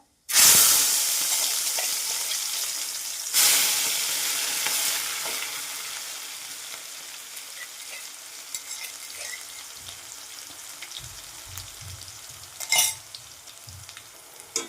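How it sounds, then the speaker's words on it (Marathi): Cumin, curry leaves, crushed onion, garlic and green chili drop into hot oil with a sharp burst of sizzling that settles into steady frying, while a spoon stirs with occasional clinks, close and without talking. "जिरे कढीपत्ता ठेचून घेतलेला कांदा लसूण आणि हिरवी मिरची ही टाकणार"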